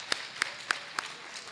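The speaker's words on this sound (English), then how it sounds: "So Kintampo, give them a round of applause." A few sparse, distinct handclaps, about four evenly spaced, sound faintly at an awards ceremony of a university research conference.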